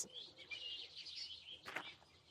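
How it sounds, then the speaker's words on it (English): A cartoon woodpecker calls during a nature walk, giving a short run of high, chirpy notes, soft and close, with a brief sharper burst near the end. "listen to the sound the woodpecker makes"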